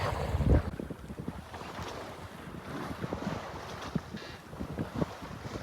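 Wind rushes steadily while sea water sloshes and washes against a sailboat during an offshore race, a continuous noisy surge with occasional heavier thumps.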